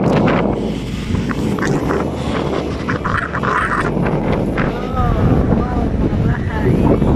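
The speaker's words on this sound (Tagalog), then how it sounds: "Ayan, mahangin sa labas. Sobra hangin ngayon" Strong wind in Houthaven, Amsterdam, buffets the microphone on a bridge in a steady roar, with rustling and occasional higher chirps or calls passing through.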